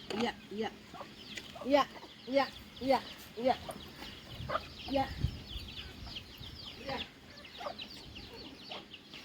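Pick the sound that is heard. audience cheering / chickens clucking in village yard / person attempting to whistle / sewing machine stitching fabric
chickens clucking in village yard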